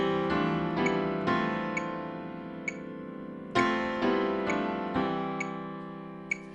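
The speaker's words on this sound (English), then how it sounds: "we'll want to stay off the pedal, only using it a little bit, or it'll sound like this" Parallel piano chords played with too much sustain pedal, so each attack rings on and smears into the next in a blurred wash. The chords arrive in an uneven series of struck accents, close and alone.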